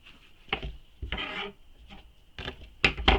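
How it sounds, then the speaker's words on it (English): Scissors trim the corners of a sewn fabric panel at an angle, giving a few close, short snipping and rasping cuts separated by brief pauses. "you want to trim your corners on an angle as well"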